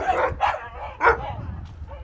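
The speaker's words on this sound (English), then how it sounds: "Why are you barking with my leash?" A dog barks three times in quick succession, close and loud, with softer yips and whimpers trailing after.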